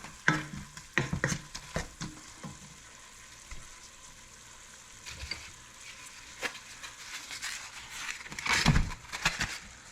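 Ground beef for chili sizzles faintly in a pan while a utensil scrapes and stirs it in irregular bursts, with a cluster of louder scraping toward the end.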